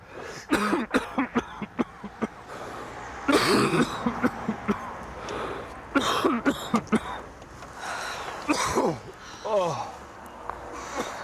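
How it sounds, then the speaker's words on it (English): Repeated harsh smoker's coughs and throat clearing in a TV drama scene come in bursts, mixed with speech nearby. "Haven't you done anything about that cough of yours yet?"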